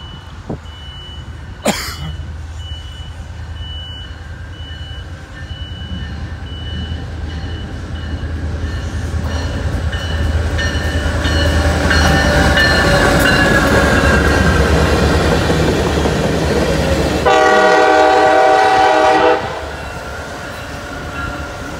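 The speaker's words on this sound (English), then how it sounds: "Looks like we got the geometry train coming." A CSX track geometry inspection train rumbles past nearby, the roar building then holding steady, with a brief horn-like tonal blast near the end before fading.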